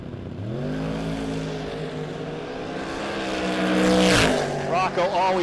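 Mustang making a drag race pass at a no-box 660 shootout. A loud, sustained engine roar climbs in pitch, peaks with a sharp burst as the car screams by, then fades with a warbling whine.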